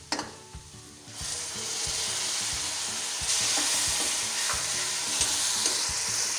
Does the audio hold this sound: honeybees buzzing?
no